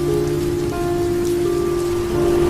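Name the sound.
heavy rain falling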